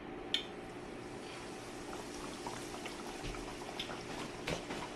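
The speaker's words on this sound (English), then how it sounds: "go ahead and pick up your first schnitzel and just gently lay it into the oil" Breaded pork schnitzel laid into olive oil heated to about 350 degrees, a soft continuous bubbling sizzle with occasional small pops and crackles, close but quiet, no talking.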